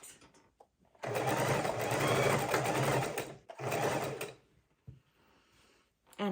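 Sewing machine stitching quilt rows together runs in two quick bursts of rapid mechanical whirring, separated by brief pauses, with small clicks and handling sounds around them.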